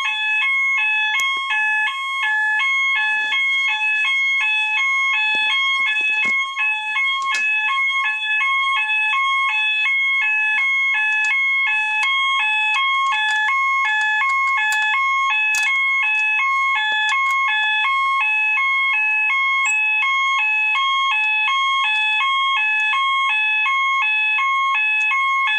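Building fire alarm set off by a pull station, sounding a loud, continuous electronic pattern of alternating tones. It repeats without a break the whole time, and no voices are heard.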